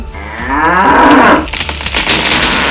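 A loud, drawn-out bull's moo with a falling harmonic tone, followed by a noisy crash and thuds as a fallen tree is moved in a cartoon scene beside a railway.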